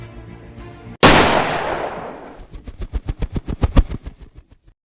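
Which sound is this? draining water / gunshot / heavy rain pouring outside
gunshot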